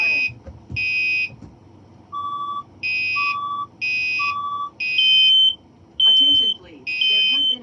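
A building fire alarm sounds repeatedly indoors, loud electronic tone bursts in a steady on-off rhythm with pitch-shifting beeps and whoops, alone without voices.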